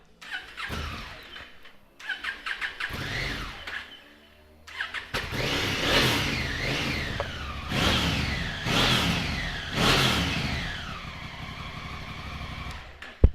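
A 2016 Honda CRF1000A Africa Twin motorcycle engine cranks a few times, catches and starts, then revs up and down repeatedly in loud bursts, close by.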